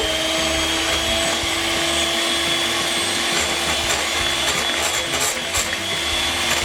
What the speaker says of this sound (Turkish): Çırpıyorum arkadaşlar.